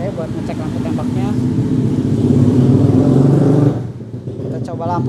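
Yamaha R15 V3 motorcycle from 2017, fitted with an aftermarket full exhaust, idles and runs with a steady low engine drone for several seconds, then drops quieter near the end while a voice talks over it.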